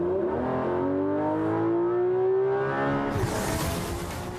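A Porsche 911 GT3 RS with PDK in Sport mode and traction control off is driven hard, its engine note rising steadily under acceleration, then a quick shift and a rush of wind and road noise, loud and close.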